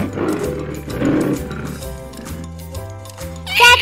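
A tiger roars loudly and close: a few deep, rumbling, growling roars follow one another, then trail into quieter growls before a brief brighter sound at the end.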